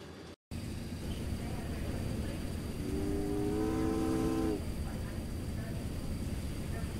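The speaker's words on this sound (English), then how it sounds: "Damn, the train is leaving." A train leaving in the game Secret Files: Tunguska, with a steady rumbling roar throughout and a tonal horn or whistle blast sounding for about two seconds in the middle.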